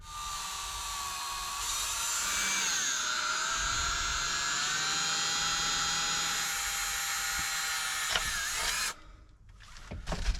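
Power drill enlarging holes for a blackout curtain in a truck camper: a loud, high whining spin that holds for several seconds with shifting pitch, then cuts off, followed by a few short bursts.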